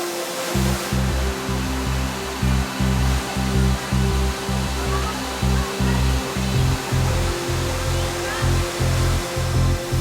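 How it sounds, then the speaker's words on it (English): A powerful rainforest waterfall about 25 meters high roars in a dense, continuous rush close by, with gusty wind adding a low, rhythmic buffeting throughout. "This waterfall is around 25 meters high,"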